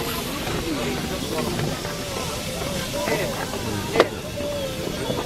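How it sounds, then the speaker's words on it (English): French fries frying in oil at an outdoor street food stall, a steady sizzling hiss under nearby chatter and crowd noise, with a brief clatter near the end. "he's frying some French fries"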